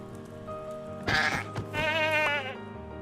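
A goat in Minecraft bleats twice, a short wavering cry then a longer quavering one, over a steady humming background with light patter.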